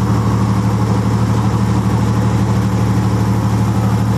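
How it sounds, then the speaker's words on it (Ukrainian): A military tank's engine idling while it warms up, a loud, steady low rumble with a strong humming drone, unchanging and close throughout. "Насамперед, кажуть військові, двигун треба добре прогріти."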